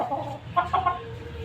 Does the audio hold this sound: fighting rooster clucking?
yes